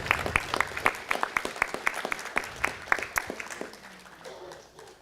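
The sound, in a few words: audience applause at a city council meeting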